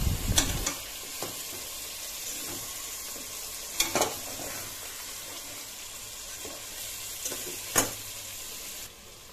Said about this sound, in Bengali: ভালো করে নেড়ে চেড়ে কষিয়ে নিচ্ছি মশলার সাথে মাংসটাকে